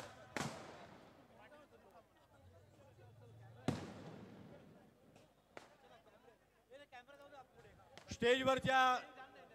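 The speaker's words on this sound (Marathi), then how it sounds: "बाकीच्या पदाधिकाऱ्यांना विनंती आहे फटाके बंद करावे. कृपया फटाके बंद करावेत." Sharp firecracker bangs burst out at intervals at a political rally, with a loud crackling cluster near the end, over a steady murmur of a crowd.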